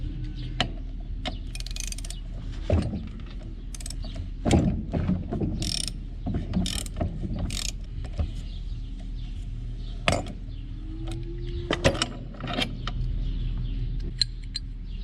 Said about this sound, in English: I want to go through the blades and just change a few of these that are wearing out.